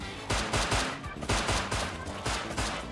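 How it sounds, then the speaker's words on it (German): Repeated bursts of rapid gunfire, loud and close, in an uneven rhythm of short volleys throughout. "Schieß ab, Brian. Schieß ab."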